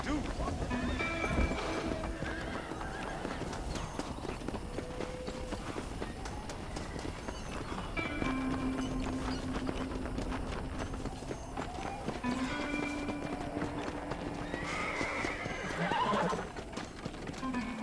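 Horses in the Red Dead Redemption video game neigh and whinny again and again over trotting clip-clop hooves, with people talking and calling out over the animal noise.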